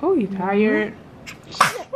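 A baby sneezes once, sharply and close, right after a voice speaks softly.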